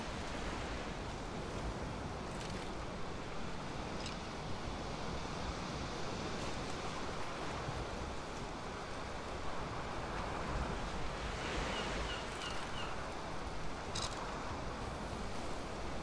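Choppy water slapping and washing against a small boat, a loud, constant rushing surge with wind buffeting the microphone and no speech.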